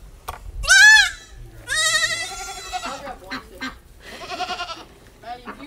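Several baby goats bleat in bursts, loud and close, with a few shorter calls overlapping near the end.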